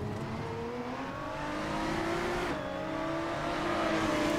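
A V6 car engine revs in a racing video game, a loud, sustained drone that builds in pitch, dips briefly and then climbs again, with no talk over it.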